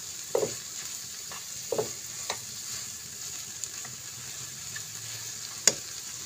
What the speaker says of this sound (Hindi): ये तमाम स्लाइसेस मैं इसमें ऐड कर दूंगी और इनको हम अच्छे से इनकी पकाई करेंगे ताकि ये सब चीज़ें मिक्स हो जाएं